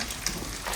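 Minced meat frying in a pan, a brief steady sizzle heard up close.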